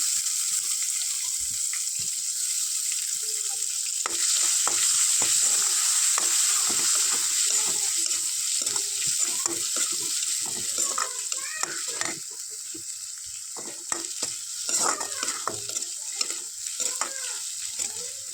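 Chopped onion and garlic sizzling in hot oil in a wok while a spatula stirs them, steady frying hiss broken by frequent scraping and clattering strokes that grow busier toward the end, no voices.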